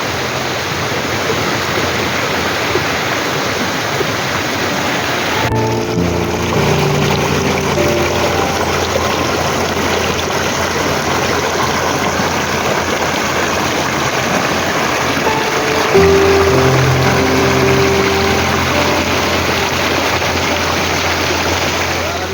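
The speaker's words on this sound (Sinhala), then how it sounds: "ඒවනේ ඇල්ල දෙකට බෙදෙන තැනක් මේක." A waterfall at Hanthana, Sri Lanka, where the falls split in two, roars as a continuous broadband rush throughout, with the tone shifting slightly a couple of times.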